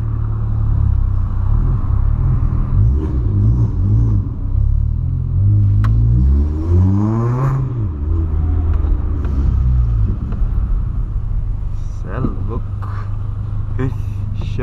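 A Volkswagen Polo with a straight-pipe exhaust revs hard inside a tunnel, a loud, booming engine drone that swells and falls with the throttle, echoing off the walls, with voices talking over it at times.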